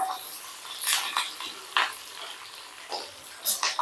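Garlic, curry leaves and six or seven green chillies fry in hot oil for a potato bhaji, giving a steady close sizzle broken by scraping stirs of the spoon against the pan.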